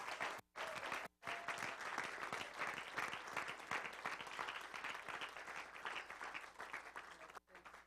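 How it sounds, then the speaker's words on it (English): An audience at a stage show applauds, a dense, sustained clapping from a crowd of listeners, fairly even for several seconds after a couple of brief gaps at the start and tapering near the end. "So how about a round of applause for Hector and Chris?"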